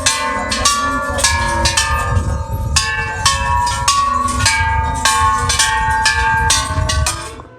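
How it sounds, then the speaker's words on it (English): Metal temple bells at Golden Mountain temple in Bangkok are struck in a quick run, each strike leaving bright ringing overtones that overlap into a steady shimmering chime, loud and close, with no talking. "So now for the second series of bells to ring."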